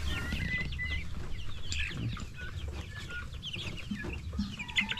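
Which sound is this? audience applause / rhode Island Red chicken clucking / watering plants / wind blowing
rhode Island Red chicken clucking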